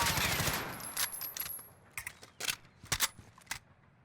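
A submachine gun fitted with a muzzle brake is hip-fired in Call of Duty Warzone. It starts with a dense rapid burst, then several short bursts and single cracks follow with small gaps between them.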